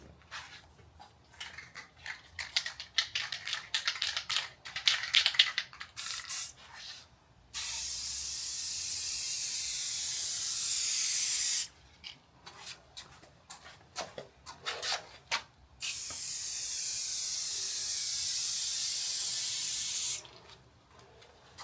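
Spray paint goes on in light coats over a Jaguar S Type R part: two long, loud, even hissing bursts of several seconds each, separated by quieter clicks and handling noise.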